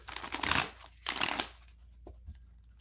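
Tarot cards being shuffled by hand in two quick riffling bursts, then quieter handling and a soft tap, close and alone.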